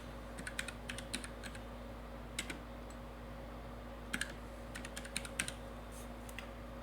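Fingers typing on a computer keyboard, scattered bursts of quick light key clicks with pauses between them, close but quiet over a steady low electrical hum, no talking.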